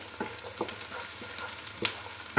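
Garlic and ginger frying in a pan over medium heat for kofta potato kadhi, giving a steady close sizzle with a few short spatula scrapes and stirs.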